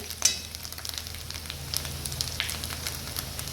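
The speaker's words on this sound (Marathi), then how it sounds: "आता आपण ह्याला छान असे परतून घेणार आहोत" Green chilies for mirchi thecha frying in a pan give a close, continuous sizzle and crackle, with scraping from stirring and a sharp clink near the start.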